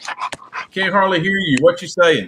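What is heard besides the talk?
dog panting and whimpering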